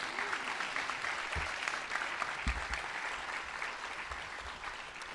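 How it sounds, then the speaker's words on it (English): An audience at a school district employee recognition ceremony applauds a teacher, a steady wash of many hands clapping at a moderate distance, sustained and even with no speech. "Another round of applause for Mr. Richards."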